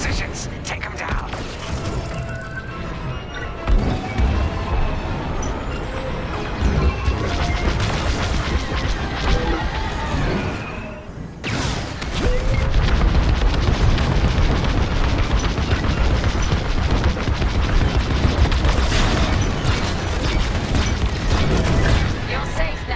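Space dogfight in the Star Wars Squadrons video game, with continuous loud laser fire, booming explosions and engine roar filling the scene, and voices talking over the battle noise.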